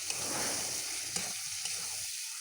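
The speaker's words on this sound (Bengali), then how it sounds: "কষানো মশলা থেকে তেল ছাড়লে সিদ্ধ করা আলুগুলো দিয়ে দিচ্ছি।" Boiled potatoes frying in a sautéed spice paste that has released its oil, giving a steady close sizzle with stirring scrapes, easing off and fading near the end.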